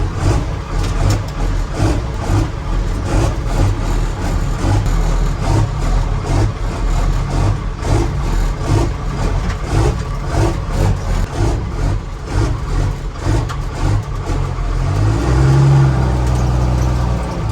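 A drag truck engine idles loudly and steadily with a lumpy, pulsing rhythm, swelling briefly near the end as if lightly revved.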